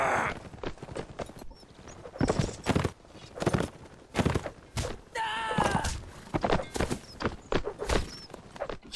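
Horses galloping in a multiplayer video game, a busy run of hoof thuds and clip-clops with occasional whinnies, fairly close and steady, and players talking over it.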